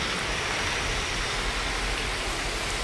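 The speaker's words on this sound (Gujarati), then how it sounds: "જો ને ફૂલ વરસાદ ચાલુ છે." A steady, dense hiss of heavy rain pours continuously without a break, fairly soft and even throughout.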